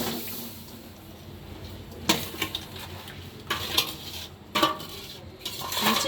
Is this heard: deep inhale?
no